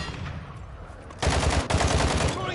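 Gunfire in the tactical shooter Rainbow Six Siege, quiet at first, then a dense burst of loud rapid shots starting partway through and continuing to the end, with a short break before resuming.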